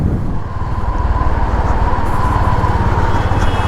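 A Honda Highness CB 350 motorcycle carrying two riders cruises in fourth gear at about 50 km/h, a loud, close, steady engine thrum with wind noise and no talk.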